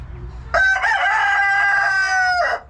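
A rooster on a homestead crows once, loud and close, a single long cock-a-doodle-doo rising sharply and holding before tapering off, with no talk over it.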